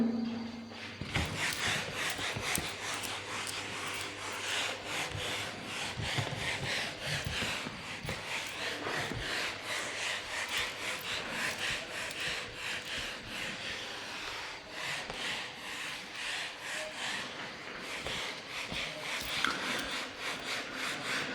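A chalkboard or whiteboard being erased in a physics classroom, heard as a long run of steady, rhythmic rubbing strokes with a dry, scratchy texture at moderate loudness.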